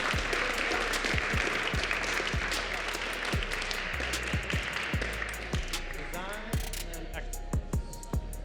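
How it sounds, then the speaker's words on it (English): Steady crowd applause fills a robotics tournament venue (VRC High Stakes, Benzie, Michigan) for a team from Traverse City, a continuous dense clapping wash with sharp individual claps standing out, a little cheering mixed in, fading slightly toward the end. "Clap it up again for Botley Crew."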